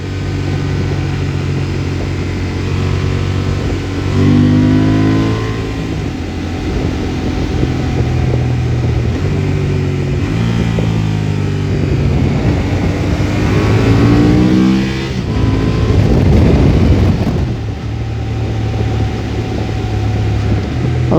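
Honda Transalp 750 motorcycle engine roaring at around 5,000 RPM on twisty roads, a loud, steady close-up drone whose pitch rises and falls repeatedly as the rider works through the revs, with no talking.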